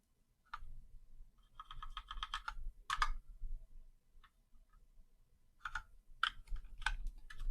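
Computer keyboard keys are pressed in quick bursts of close, crisp clicks, with short pauses between the flurries of typing.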